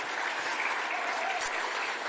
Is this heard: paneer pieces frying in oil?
no